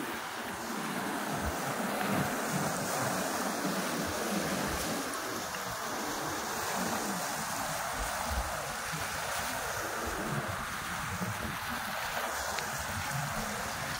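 Steady wind gusting over open water beside a small fishing boat at night, a continuous broadband rush with surf-like swells and faint distant sounds, no talk.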